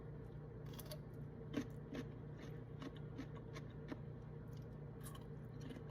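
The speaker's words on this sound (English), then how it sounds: "Wanted to show you, oh geez, I can't get it, that they stay crunchy." Someone bites and chews a crunchy homemade spicy dill pickle with garlic and hot pepper, giving a few faint, close crunches and wet chewing noises over a steady low background hum.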